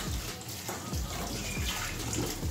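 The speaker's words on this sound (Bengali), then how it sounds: "কড়াইয়ে জল নিয়ে নিয়েছি।" Water poured into a kitchen wok, a steady broadband splashing stream filling the pan for a couple of seconds, close and fairly loud with no talking.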